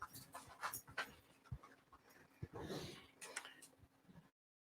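Dogs pant in a kitchen with quick, breathy, irregular huffs and faint snorts and licks, close and quiet, with soft background shuffling and a brief louder breath near the middle.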